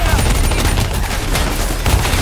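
Dense gunfire bursts in the video game Call of Duty Black Ops 3 come as loud, rapid overlapping shots and impacts throughout, with game sounds layered in.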